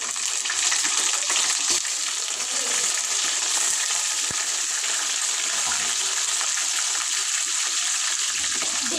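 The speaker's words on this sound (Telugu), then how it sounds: "ఇప్పుడైతే చికెన్ వేసేస్తా ముందుగా కడిగి పెట్టిన చికెన్" Washed chicken goes into a hot pan of deep-fried onions, setting off a loud, steady, close hiss of sizzling oil that holds evenly throughout with faint stirring and no talk.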